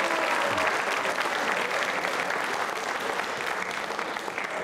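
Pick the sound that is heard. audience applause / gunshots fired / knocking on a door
audience applause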